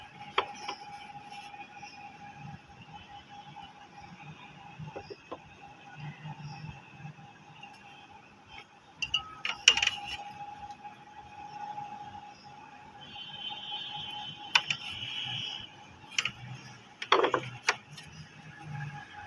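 A deep freezer hums steadily as its compressor starts up, with scattered mechanical rattles and clicks that grow busier and louder partway through.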